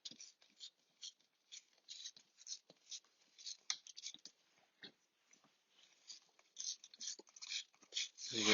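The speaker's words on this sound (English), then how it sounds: "Now I'm going to rip along its edge and trying to follow and use my finger to sort of stop it." Paper ripped slowly by hand along a drawn line, heard as a close, continuous series of small crackly tearing bursts with brief pauses, mostly quiet and growing louder toward the end, with no voices.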